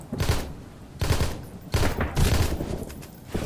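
Repeated bursts of automatic gunfire in the survival game Sunkenland: four loud volleys, each lasting under a second, separated by brief pauses, with the later bursts running almost together.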